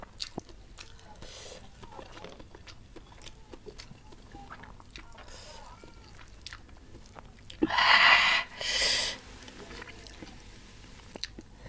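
Close-up eating of fried tilapia with spicy sambal dabu-dabu, soft crunchy bites and wet chewing sounds through a quiet room, with two louder bursts of crunching near the middle.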